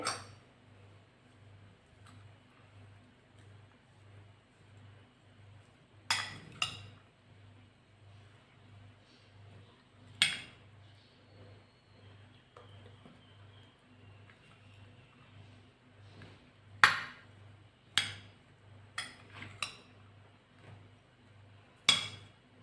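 Chana dal chaat is stirred together with red chili, salt and green coriander in a dish, giving sparse, sharp clinks of a spoon against the bowl over a steady low hum, with several taps clustered near the end.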